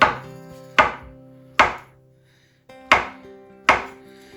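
A knife slicing peeled bananas, five sharp distinct taps against a cutting board at an uneven, unhurried pace, close and clear with quiet between cuts.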